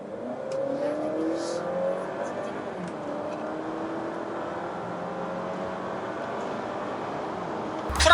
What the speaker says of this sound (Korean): 풀악셀 밟으니까 이제 그제서야 엔진의 소리가 크게 들어오는데